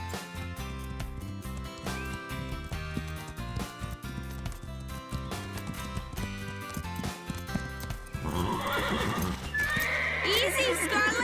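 Horses whinny and neigh loudly over a steady clip-clop of hooves, with music playing underneath and the commotion building toward the end.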